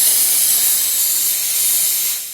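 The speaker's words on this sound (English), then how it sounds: "It makes steam." A 20-year-old Scunci Model S steamer releases steam in a loud, continuous, close hiss that holds steady and then eases off slightly at the end.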